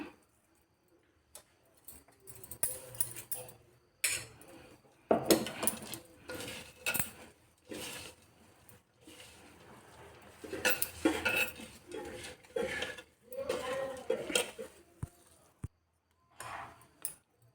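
A spatula clatters and scrapes against a pan while fried mustard greens are stirred together with chili powder. The knocks come in irregular bursts with short quiet gaps between them.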